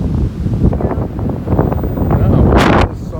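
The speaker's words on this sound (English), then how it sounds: "Oh, it's so windy." Strong gusting wind on a beach buffets the microphone with a loud, continuous low roar that swells and surges throughout, rising into a harsher rushing burst near the end.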